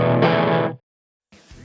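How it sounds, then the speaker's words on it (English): A crunchy, overdriven electric guitar through a Blackstar HT Studio 20 amp rings out one loud sustained chord that cuts off sharply, then after a short silence a quieter strum begins. "The volume right up here does get you a bit of crunchy"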